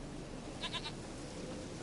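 A goat in the video game The Witcher 3: Wild Hunt gives a short wavering bleat of about three pulses, clear against a quiet background hiss.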